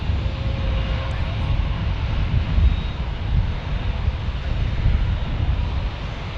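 An airliner departing San Diego airport, a loud low rumbling engine roar with wind buffeting, swelling slightly in waves, while a person talks over it.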